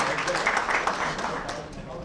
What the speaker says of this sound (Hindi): इसी बात पे जोरदार तालियां हो जाए